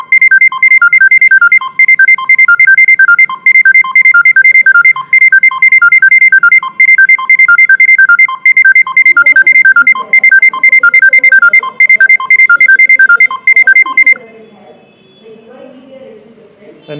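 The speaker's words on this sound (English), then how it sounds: "our another driver getting notification with the same loud notification and with the same time" Loud repeating electronic ringtone of a ride request notification in a taxi booking app, rapid beeping chimes pulsing for about fourteen seconds before cutting off, with a voice talking faintly underneath.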